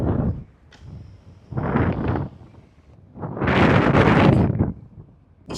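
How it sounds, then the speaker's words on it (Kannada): Wind at a cold, misty outdoor viewpoint blows in about three rough gusts that buffet the microphone, with quieter lulls in between. "ಗಾಳಿ ಸೌಂಡ್ ಕೇಳಿಸ್ತಿದ್ಯಾ?"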